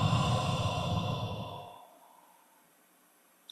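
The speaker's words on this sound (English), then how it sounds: "And breathing out." One person exhales audibly during a guided meditation, a long breathy sigh that fades out over about two seconds and leaves near silence.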